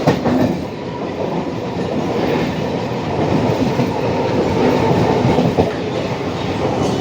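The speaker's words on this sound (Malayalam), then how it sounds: "ഇതാ കണ്ടില്ലേ, വേറൊരു ലോക്കൽ ട്രെയിൻ വരുന്നുണ്ട്" A local train in Chennai rumbles past at a roofed station, a steady loud rolling roar with rhythmic clatter of wheels over the rails throughout, no voices.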